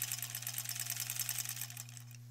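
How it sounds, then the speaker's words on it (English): A sewing machine stitches along the edge of a zipper pouch in one close, steady run of rapid needle strokes over a constant motor hum, then stops shortly before the end. "now let's just sew along that edge all the way to where they're together"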